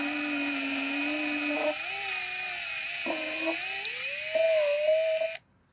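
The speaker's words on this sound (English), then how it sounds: "from debris when I drill" A drill cuts into a part on a Hictop/Tenlog D3 Hero IDEX 3D printer during a Titan extruder upgrade, giving a steady whining buzz that shifts pitch several times, with brief clicks, close and loud, then stopping abruptly.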